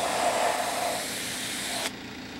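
Airbrush paint spraying onto a model Eurofighter Typhoon aircraft at the wing-to-fuselage joint, a steady close hiss that fades slightly then cuts off sharply near the end, leaving a quieter background.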